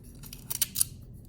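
A new craft blade is pulled through foam board, producing a quick cluster of crisp scratchy cutting strokes, close and fairly loud against a quiet room.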